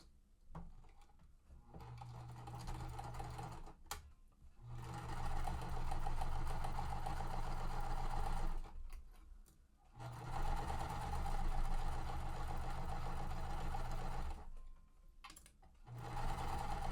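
A sewing machine stitches cotton quilt pieces in several steady runs of rapid motor hum, pausing briefly between seams, close and alone with no talk.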